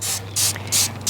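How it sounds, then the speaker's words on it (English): Three quick hissing bursts of grill cleaner degreaser sprayed onto a Weber Genesis grill, close and loud, each lasting a fraction of a second with short gaps between. "we are gonna spray"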